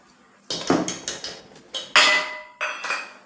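A spoon stirs cashews and almonds into thick shrikhand in a bowl, giving about six sharp, clear clinks of metal on the dish at uneven intervals, close and distinct, with nothing else heard.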